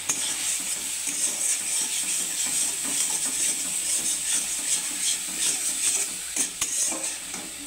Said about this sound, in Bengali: এখন এটাকে আমি একটু ভেজে নেব। দিয়ে দেবো হলুদ গুঁড়ো